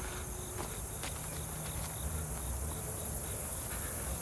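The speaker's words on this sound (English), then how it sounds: "I love that sound of those, what are those, frogs, crickets?" Rhythmic high cricket chirps repeat steadily over a quiet outdoor background at a waterfront ranch, fairly faint and distant.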